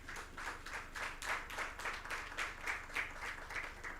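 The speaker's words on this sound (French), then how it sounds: "chaleureuse félicitations et beaucoup d'applaudissements à tous nos présentateurs" A faint, rhythmic clapping from a small audience thanking presenters in a conference breakout room, an even pulse of hand claps about three per second, distant and quiet.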